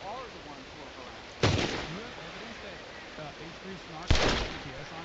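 Two sharp blasts from dynamite strapped to a player's back being shot in Red Dead Online, each a sudden loud boom with a decaying rumble, a few seconds apart over a continuous low game background.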